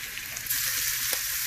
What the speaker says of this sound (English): Put that in, you get that nice sizzle.